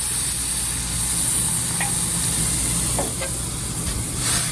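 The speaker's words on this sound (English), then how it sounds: "let's go ahead and get our meat going. That on the stove" Ground meat warming in a pan on a stovetop over medium-low heat, a steady broad sizzle with faint hiss and a few soft stirring clicks, close and constant with no talking.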